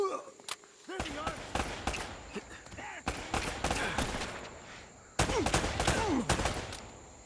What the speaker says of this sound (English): We seem to be getting shot at